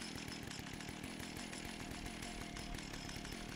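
A chainsaw in the video game Fallout 76 runs steadily at a loud, raspy idle-to-rev drone, continuous with a fast rhythmic chatter and no talking.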